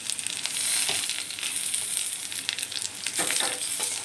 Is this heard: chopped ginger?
yes